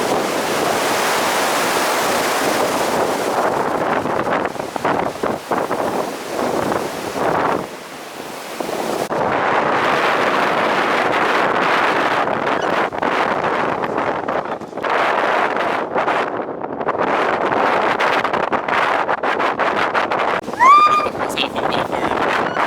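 Strong wind batters the microphone near the sea, roaring in heavy, uneven gusts with waves and surf underneath, dipping briefly in a few lulls before surging back, and a faint squeak near the end.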